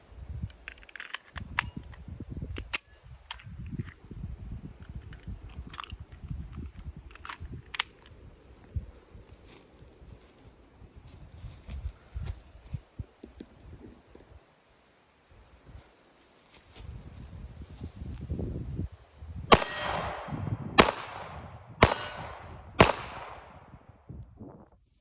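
Ruger LCP Max pistol firing four sharp, close shots in quick succession near the end, after a long stretch of quiet handling and rustling, with metallic slide clicks between.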